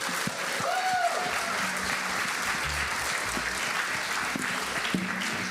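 Steady audience applause fills a church gathering hall, a dense, continuous patter of many hands clapping at close to moderate distance, holding evenly from start to finish with no voices breaking through.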